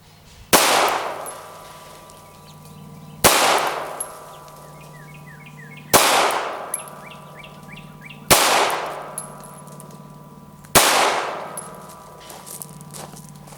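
Five sharp handgun shots fired one at a time at a 7-yard target practice range, each loud crack followed by a ringing decay, spaced about two to three seconds apart with quiet between.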